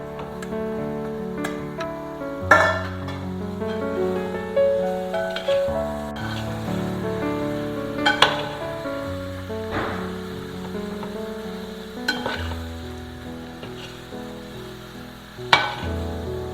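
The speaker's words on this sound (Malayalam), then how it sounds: "നമ്മളിതിനെ ഇളക്കി യോജിപ്പിക്കുക" Bottle gourd and potato pieces being stirred into masala in a pan, with sizzling and repeated scraping clinks of the spoon against the metal pan over a steady frying hiss.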